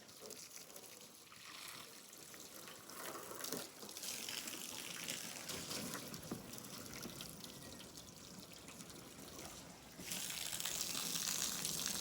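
Water flooding over a car's paintwork during a wash, a steady faint gushing and splashing stream, continuous and close with no talk.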